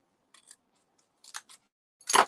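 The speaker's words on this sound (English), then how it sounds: "I use my snips though because they are much finer for getting into." Small fine snips fussy cut pieces of paper, a few crisp, quiet snips spaced apart, followed by a louder, sharper cut at the end.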